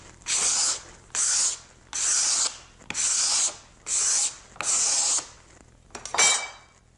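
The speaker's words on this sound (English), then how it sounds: "with a sharpened putty knife, I'm able to scrape that off with a few strokes" A sharpened putty knife scrapes across pallet wood in six steady, rasping strokes with short pauses between, then a final shorter scrape, close up with no talking.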